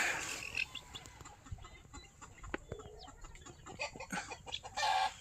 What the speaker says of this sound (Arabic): كاين دجاج هنا في المسرح، كنار